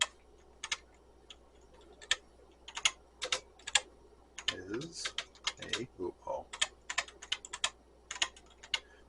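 A computer keyboard under test clacks in irregular bursts of crisp keystrokes near the microphone, with brief speech partway through.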